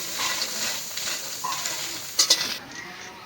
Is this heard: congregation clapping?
no